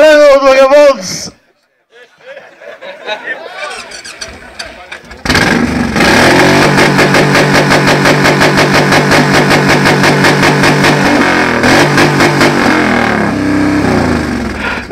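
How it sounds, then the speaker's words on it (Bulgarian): A motorcycle belonging to a member of a biker club starts after a few moments of quiet and a voice, then roars loudly with repeated revving pulses that fill the rest of the stretch. "Сега чуйте мотора на моя скъп приятел Малена от Вагабонс."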